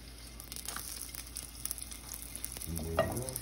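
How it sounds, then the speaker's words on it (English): A flipped banana pancake frying in a pan, a faint steady sizzle close by with small scrapes and a soft clatter near the end, no talking. "And then you'll want to flip it over."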